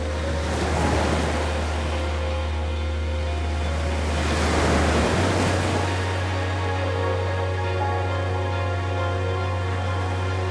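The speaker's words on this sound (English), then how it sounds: "I'm just keeping my eye on this water here. The tide's turning now" Sea waves wash and surge along the shore as the tide turns, a steady broadband rush that swells and eases in two broad pulses over a constant low rumble, with no voices.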